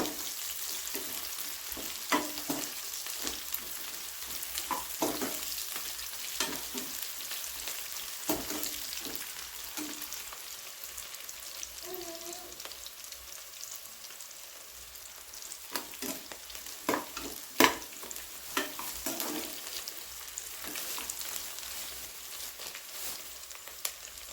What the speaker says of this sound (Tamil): நல்லா வதங்கிட்டு இந்த வெங்காயம் நல்லா வதக்கிங்க